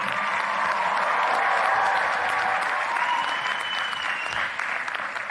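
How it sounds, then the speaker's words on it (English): Sustained applause from a large crowd fills a graduation ceremony, loud and steady for several seconds with dense clapping throughout. "join me in giving a round of applause to those who have made the biggest impact on our presence here today"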